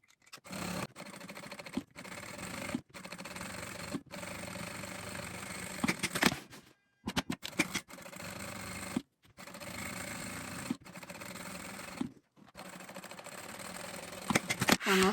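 A sewing machine stitching a synthetic leather travel bag, running in repeated bursts of rapid mechanical whirring separated by brief pauses, close and fairly loud.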